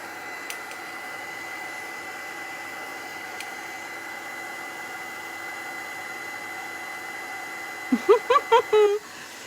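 A handheld heat tool blows a steady, close whooshing hiss while drying mixed-media craft work, running unbroken for most of the stretch before a few short voiced sounds break in at the end.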